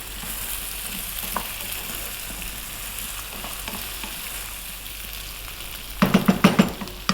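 Steady sizzling of eggplant and potato curry stir-frying in a pan, with a burst of louder clattering and spatter near the end as the ingredients are tossed.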